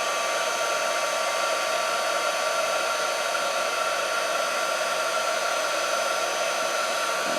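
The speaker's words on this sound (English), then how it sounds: "I'm going to heat shrink it using the heat gun" A heat gun blows steadily to shrink a sheet of Grafix shrink film, a loud, even, hissing whoosh of hot air that holds without a break from start to finish.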